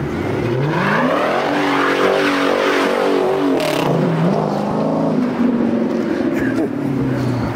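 A car spins in a Memphis street takeover in Orange Mound, its engine revving in long rising and falling wails under loud crowd shouting and chatter.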